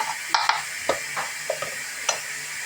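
Onion gets stirred into meat frying in a pot, a faint sizzle under a handful of light utensil clicks and scrapes spaced about half a second apart, close and quiet.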